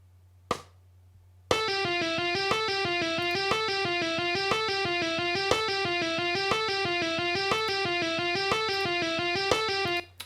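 Electric guitar playing a looped harmony exercise, a steady repeating pattern of bright, sustained distorted notes cycling evenly for about nine seconds after a brief tap, loud and close with no talk.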